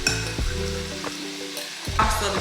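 Golden-brown fries being lifted out of hot oil crackle and sizzle, with several clinking scrapes of a utensil against the pan breaking up the steady frying hiss.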